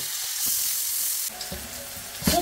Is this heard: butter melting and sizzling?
yes